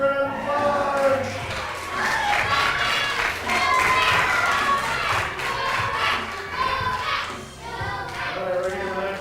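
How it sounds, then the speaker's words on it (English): An audience at a church vacation Bible school magic show applauds and cheers, loud and sustained, with crowd voices and shouts mixed into the clapping. "Give Max a round of applause"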